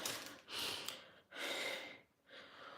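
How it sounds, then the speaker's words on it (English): Heavy, hard breathing from a person winded after running up and down stairs, three loud close breaths with rushing inhale-exhale cycles and short pauses between, alone without speech. "I just ran upstairs and down the stairs, and I'm breathing quite hard"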